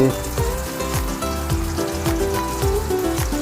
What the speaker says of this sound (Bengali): গরম তেলে ছাড়া হয়ে কড়া করে লাল লাল করে ভেজে নিতে হবে